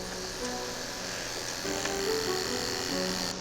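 Electric hair clippers with a number 2 guard buzz steadily and close by during a kid's fade haircut, a continuous hum with slight shifts in pitch as they move through the hair.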